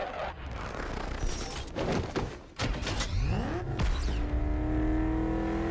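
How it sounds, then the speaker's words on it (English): A car is driven in Batman Arkham VR: a loud rumbling engine with bangs and whooshing passes, then a rising, revving whine that settles into a steady droning hum toward the end. "Oh, now we're in the car."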